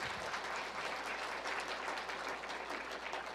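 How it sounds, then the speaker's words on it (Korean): A church congregation applauds during a Sunday sermon, a steady, dense wash of clapping that holds evenly throughout without a break. "박수!"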